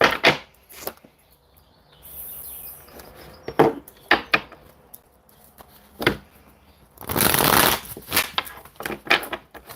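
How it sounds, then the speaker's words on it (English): Tarot cards are shuffled by hand in several quick bursts of riffling and tapping, with quiet pauses between, ending in a longer riffle. "One more shuffle."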